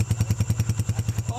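A scooter engine idles with a steady, rapid thumping beat, close and fairly loud, its rhythmic chugging pulses repeating evenly throughout.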